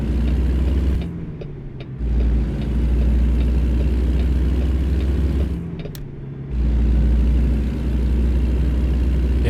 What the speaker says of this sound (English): the music to my ears right there. That classic Jake brake sound.